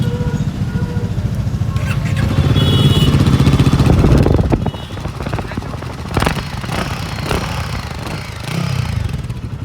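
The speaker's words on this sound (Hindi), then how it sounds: "तो अब सुनते हैं बाइक का एग्जॉस्ट नोट।" A Royal Enfield Guerrilla 450 motorcycle idles close by with a thumping exhaust note and a brief rev, partly covered by someone talking.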